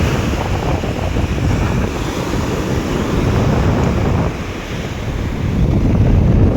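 Surf and strong wind at Salmiya Marina Beach in Kuwait make a steady, loud wash of breaking waves, with heavy wind buffeting on the microphone throughout and no voices.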